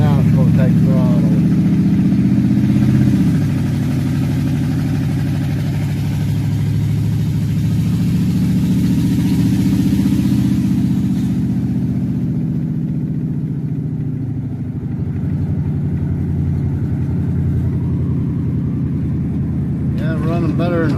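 An engine taking throttle, a loud steady low drone that rises and holds, with a slight dip and wavering pitch midway, near and continuous, with someone talking over parts of it.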